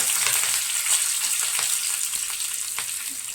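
Fenugreek seeds, green chilies and curry leaves sizzle in hot oil, a steady close hiss with faint crackles and no one speaking.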